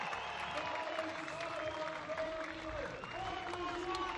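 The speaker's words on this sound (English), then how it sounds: "Their players being cheered roundly as they're introduced to" A crowd applauds and cheers at the 2015 EBSL Superfinal beach soccer match between Estonia and Romania as the players are introduced. The steady, fairly distant roar has a commentator talking over it.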